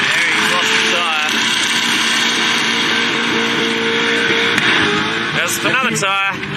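At a Powercruise event in Sydney, a car performing a powerskid roars continuously with a loud, sustained engine drone under crowd noise and speech, and engine pitch sweeps up near the end.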